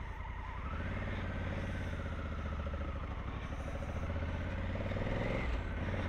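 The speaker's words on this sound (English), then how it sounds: "On the button. I love bikes that start instantly." A 2020 Honda Africa Twin CRF1100 runs steadily right after starting, giving a close, continuous engine rumble with a low, even throb and no talk over it.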